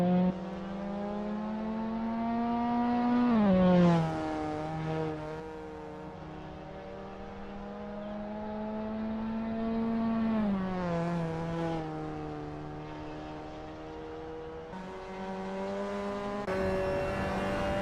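A Mazda MX5 Cup race car laps Laguna Seca in Assetto Corsa, its engine revving up through the gears, with sharp pitch drops at each shift and braking, then climbing again, close and steady with no talk.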